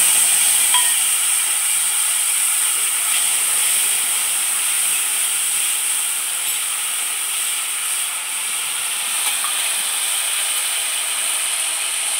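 A steady, bright hiss from water poured into a hot pan of ginger paste and salt while cooking an aar fish curry, holding level and close for the whole stretch with no talk over it.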